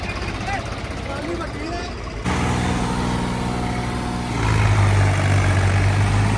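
A heavy tractor engine rumbles steadily, then deepens and grows louder as it strains hauling a load of sand, with voices talking over the drone.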